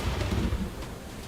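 Thunderstorm in the video game Limbus Company: a low, rolling rumble of thunder with a rain-like hiss, moderately quiet and fading slightly over about a second and a half, with no voices.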